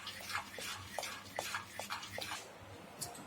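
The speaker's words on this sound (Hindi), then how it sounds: "लो फ्लेम पर अभी हमें इसे पकाना है लगातार चलाते हुए कि इसमें कोई भी लम्स ना पड़े।" A spoon stirs thick rice batter in a pan over a low flame, giving soft, evenly spaced scraping and tapping strokes, faint and close, with no talking.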